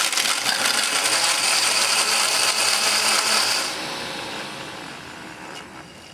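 A KitchenAid blender grinds ice, soy milk and a whole orange with a loud, harsh whir that drops to a smoother, quieter spin partway through.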